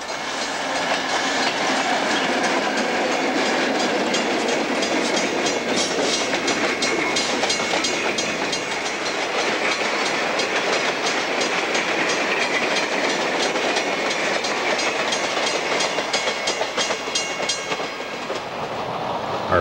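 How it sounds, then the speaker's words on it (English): An Algoma Central Railway work train heading for Steelton rolls steadily past, a loud continuous rumble with clickety-clack of wheels over rail joints and faint squeal, heard alone throughout. "a work train heads for Steelton"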